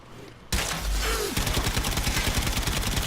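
Rapid automatic fire from the Mulus Quantus secondary mode in the video game Warframe, a loud sustained burst of close, densely repeating shots following one heavy initial blast.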